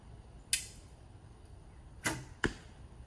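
Arrows loosed from a bow during basic archery instruction: three sharp, close snaps land at uneven intervals against a quiet background, with no talking.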